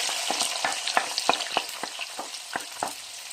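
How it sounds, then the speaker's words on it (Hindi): Onions sizzle steadily in an old kadhai with a constant bright frying hiss, punctuated by a regular run of sharp stirring scrapes and clinks, close and loud. "प्याज हमारा फ्राई हो चुका है।"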